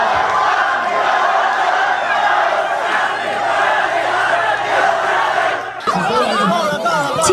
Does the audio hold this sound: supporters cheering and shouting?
yes